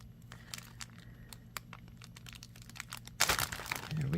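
Crinkling and scattered clicks of handling a plastic bead package come first, quiet and sparse. Near the end comes a louder burst of snipping and crumpling as scissors cut the package open.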